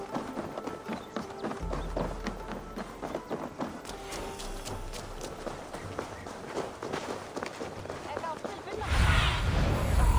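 Horses gallop near Dublin's gates in Assassin's Creed Valhalla's Wrath of the Druids expansion, a rhythmic clip-clop of hooves running steadily under spoken game dialogue, with a heavier rumble at the end.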